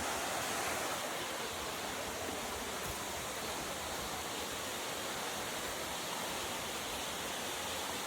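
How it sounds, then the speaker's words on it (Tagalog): Steady, loud rush of a waterfall in Bukidnon, a continuous broadband roar close by with no break and no voices over it. "madunggan na din ang tingog sa falls"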